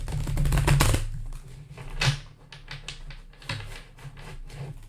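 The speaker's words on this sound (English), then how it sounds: "So we're going to go ahead and do the first shuffle." Tarot cards riffled in a brief flurry, then a scatter of light taps and clicks as the deck is squared up, close by.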